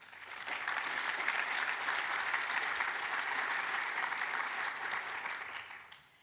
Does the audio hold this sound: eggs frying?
no